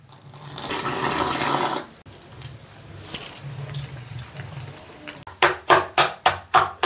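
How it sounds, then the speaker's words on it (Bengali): Gram flour batter mixed with salt and water is whisked in a bowl, first as a loud wet churning, then as quieter stirring, ending in a run of rhythmic, evenly spaced slapping beats. "বেসনটা খুব ভালো করে ফেটিয়ে নিচ্ছি।"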